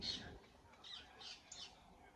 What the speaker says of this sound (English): Sorry about the parakeet.